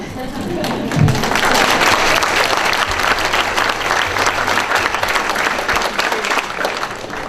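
Studio audience on a morning television show gives the panelists a sustained round of applause, loud and steady throughout, with a brief voice near the start.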